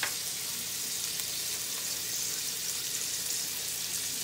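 Burger patties fry in a pan with a steady, bright crackling sizzle that holds even throughout, close and moderately quiet with no voices over it.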